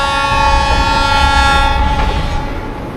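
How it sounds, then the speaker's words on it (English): Train passing near Hidroelectrica, Peru, its horn sounding loud and sustained over a rumbling, rattling rail roar, very close, with no talk. "Train!"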